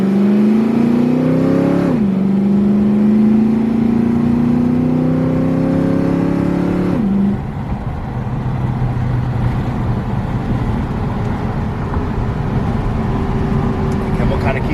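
A 1968 Mustang with a 302 V8 revs up hard while driving, engine pitch climbing through two strong pulls before settling to a steadier, lower drone; loud and close throughout.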